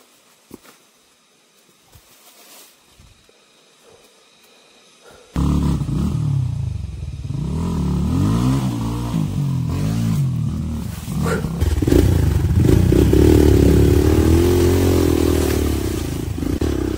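A smoking motorcycle engine starts up after a few seconds of quiet rattles and clicks, then runs loud and close with rising and falling revs, rough and roaring, through the remaining seconds.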